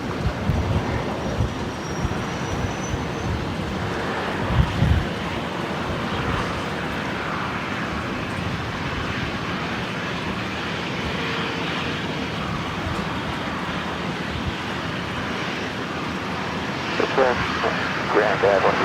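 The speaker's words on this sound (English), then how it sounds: "Just have another aircraft under tow behind." An aircraft under tow at Brisbane Airport gives a steady low engine and tug rumble, continuous and moderately close, with a few clunks along the way and no voices audible.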